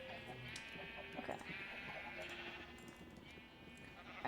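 Sheep bleat in Minecraft's survival mode on a quiet farm, a few short wavering calls at moderate level over soft background game ambience.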